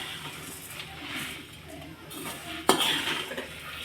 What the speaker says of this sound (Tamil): இப்போ இன்னும் கொஞ்சம் வறுத்தோம்னா